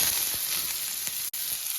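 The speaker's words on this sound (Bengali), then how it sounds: "পেঁয়াজ কুচি রসুন কুচি ও টমেটো কুচিগুলো কড়াই দিয়ে দেবো" Chopped onion, garlic and tomato frying in hot oil in a kadai, a steady close sizzle with a brief break near the end and no voices.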